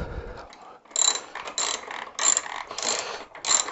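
Ratchet loosening bolts on the rear brake caliper of a Suzuki Bandit 650 motorcycle, with a close, brisk series of clicking pawl bursts repeating in quick strokes, without speech.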